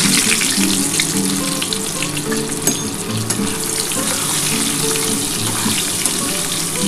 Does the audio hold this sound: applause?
no